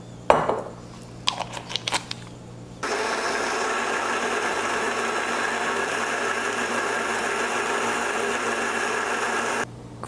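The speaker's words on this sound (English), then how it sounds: "we are going to blend this all together now" A kitchen blender whirs steadily with lime juice and soy sauce inside, loud and continuous for several seconds after a few clinks and taps, then cuts off abruptly.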